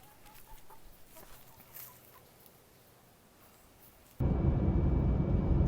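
Chickens in a coop cluck softly and intermittently in a quiet, hissy setting, a few short faint calls scattered over several seconds before an abrupt loud burst of rumbling noise takes over.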